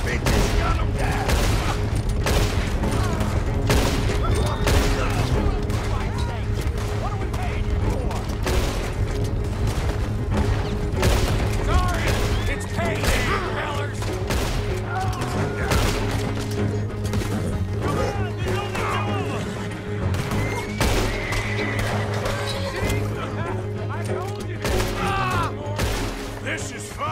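Rapid, overlapping gunfire from a stagecoach holdup in the western video game Red Dead Redemption 2, loud and continuous for the whole stretch with sharp cracks over a steady low drone, and voices mixed in.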